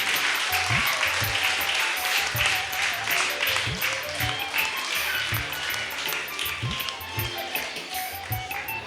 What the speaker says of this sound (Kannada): ಚಪ್ಪಾಳೆಯೊಂದಿಗೆ ಸಹಕರಿಸಿ.